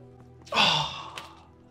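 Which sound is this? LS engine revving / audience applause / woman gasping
woman gasping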